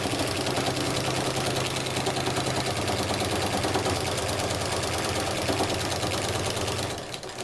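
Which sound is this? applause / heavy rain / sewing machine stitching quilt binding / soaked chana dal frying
sewing machine stitching quilt binding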